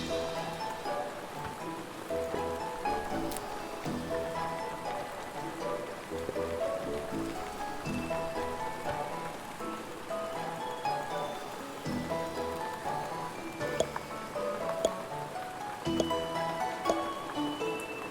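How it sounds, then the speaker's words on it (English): Rain falling in the settlement simulation game Odd Realm, a continuous dense patter of drops on surfaces that stays steady and fairly loud for the whole stretch, with no voices. "Also, it's raining in the houses."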